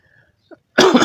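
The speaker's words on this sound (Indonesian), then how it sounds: "Aduh, maaf batuk ya." A single sharp, close cough from a man, one harsh burst after a brief faint sound and near silence.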